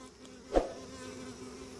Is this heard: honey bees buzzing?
yes